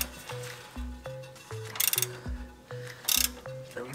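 A ratchet wrench turns a tight bolt on a BMW F30 340i rear-wheel-drive suspension during a spring install, clicking in a steady series of close, sharp metallic ratchet strokes with brief pauses.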